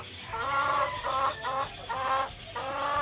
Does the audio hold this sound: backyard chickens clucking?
yes